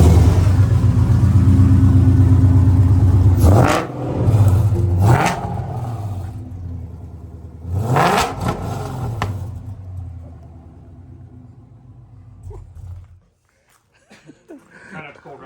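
A cold supercharged Mustang V8 with full 3-inch exhaust, 8 7/8 headers and an automatic idles loud and rumbling, then blips through a few sharp revs that fall away before the engine cuts off, with brief voices near the end.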